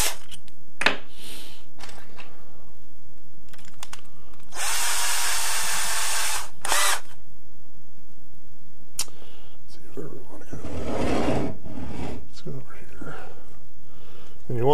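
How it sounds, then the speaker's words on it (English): A power drill whirs in a couple of short bursts, boring a pilot hole in shed antler for a lamp, with one longer run in the middle and a person talking quietly around it. "you pilot drill through first"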